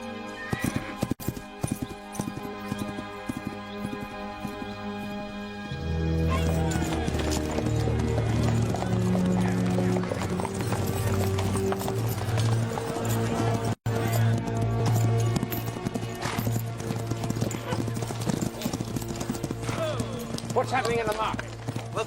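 Hooves clip-clop in a quick steady rhythm under a loud music score, with voices speaking over parts of it.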